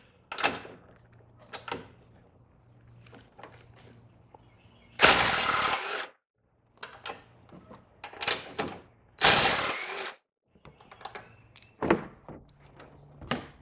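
An impact wrench works on the strut tower of an EcoBoost Mustang during a Ford Performance strut tower brace install. It gives two loud, close, one-second rattling bursts amid quieter clicks and handling noises.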